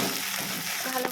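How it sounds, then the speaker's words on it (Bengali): Lote fish frying in a pan with onion, ginger, garlic and green chili, a close, continuous sizzle with faint stirring scrapes and no voices. "ভালো করে ভাজছি"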